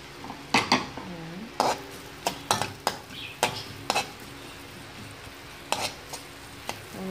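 Onion sautéing in a hot pan for squid adobo (adobong pusit), a steady sizzle broken by repeated sharp scrapes and clacks of a utensil against the pan, close by with no talk.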